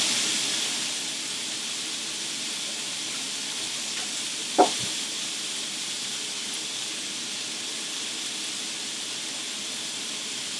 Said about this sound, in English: And we're going to fry